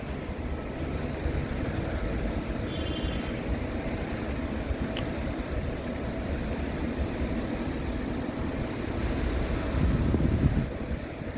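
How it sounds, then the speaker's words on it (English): Strong wind blowing outdoors, a continuous low rumbling buffet across the microphone that swells slightly toward the end. "This wind keeps blowing"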